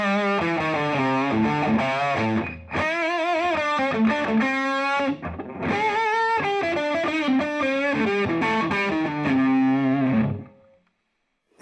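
An electric guitar with heavy, high-gain distortion plays sustained chords and riffs, loud and saturated, then cuts to silence at the end.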